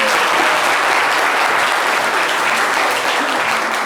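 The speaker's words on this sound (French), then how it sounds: "Applaudissez pour vous." An audience claps steadily and loudly throughout a French radio show broadcast, a dense, continuous applause with no voices above it.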